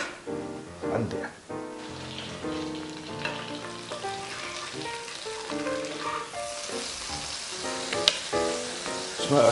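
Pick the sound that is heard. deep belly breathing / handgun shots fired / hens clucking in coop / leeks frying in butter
leeks frying in butter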